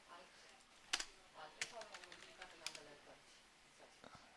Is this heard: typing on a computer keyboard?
yes